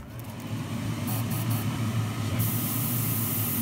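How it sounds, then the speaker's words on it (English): Steady hissing spray from an airbrush painting a 1:24 scale model car engine, with a constant low compressor hum underneath, continuous and close. "So I'm going to turn the compressor back on and then we'll get spraying."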